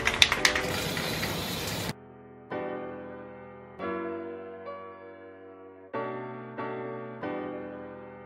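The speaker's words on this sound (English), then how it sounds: "Clear coat has been sprayed." A spray can hisses loudly and close for about two seconds as SuperWrap gloss black removable coating goes onto a car wheel, then cuts off, followed by tonal music.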